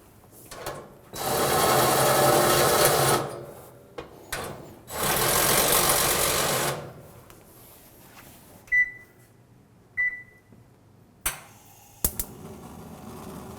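A powered driver removes the two screws holding the heat shield in a gas oven that won't heat, whirring loudly in two long bursts. Scattered clicks, knocks and a couple of short tones follow.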